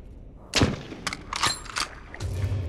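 Gunfire in the video game ZombiU, several sharp shots spaced irregularly with a low rumble after the last one, fairly close and clear with no talk.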